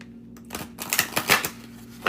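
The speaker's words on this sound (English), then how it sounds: "I've already shuffled, but I'm going to shuffle again." A tarot card deck being shuffled by hand: a series of crisp riffling and slapping bursts close up, irregular flicks and snaps following a quiet opening, with a low background hum.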